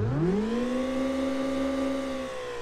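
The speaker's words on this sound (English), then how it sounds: "It almost sounds a bit electric, this car." Car engine in the CityDriver driving game, set in Munich, climbs in pitch as it accelerates and then holds a steady, smooth, slightly electric-sounding hum, close and continuous with no talk.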